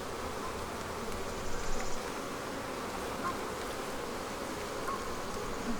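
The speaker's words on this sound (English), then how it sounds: "there's just a ton of bees right there" A dense, steady buzzing of many bees around a hive fills the air close by, a continuous droning swarm with no talking.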